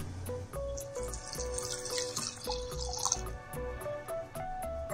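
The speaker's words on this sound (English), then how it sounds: "At this stage, we add in milk." Milk pours into a simmering Kashmiri noon chai decoction of green tea leaves, heard as a soft, close liquid trickle with light splashing and bubbling.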